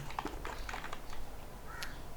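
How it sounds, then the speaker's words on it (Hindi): Keys tapped on a computer keyboard while a website URL is typed into a browser during a traffic bot tutorial, a short run of quiet, irregular clicks with brief pauses between them. "यहाँ पे मैं ब्राउज़र स्कैन लिख देता हूँ"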